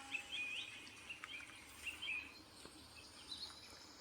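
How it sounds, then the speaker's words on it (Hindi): Birds chirping and calling in a green garden setting, including a koel, with soft repeated high chirps at moderate distance over a faint insect-like hiss; no voices. "कोयल की, पंछियों की प्यारी सी मीठी सी आवाज़ है"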